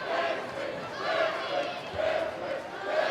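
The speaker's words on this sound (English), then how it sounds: "So the Blue Devils cheer section right down there harassing the shooter like they should be" A high school boys basketball student cheer section yells and chants in rising and falling waves to harass a free-throw shooter, a loud crowd roar filling the gym with rhythmic swells.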